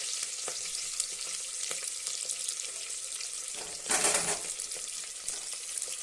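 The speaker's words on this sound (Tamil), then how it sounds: "அப்படியே வதக்கி விட்டுறலாம்" Garlic, green chillies and onion sautéing in a pan for a fish head curry, a soft steady sizzle with light stirring scrapes and a brief louder rush of sizzle midway, fairly quiet with no talk.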